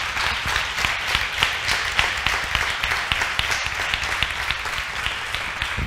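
Applause from an audience at a left-wing political event, a steady run of clapping with individual claps standing out in a quick, fairly regular pulse, moderately distant and sustained for several seconds with no speech over it.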